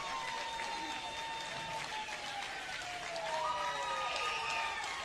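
Stadium crowd at a college baseball game roars steadily after a grand slam over the right field fence, a continuous, dense wash of cheering and applause with a few whistles rising near the end.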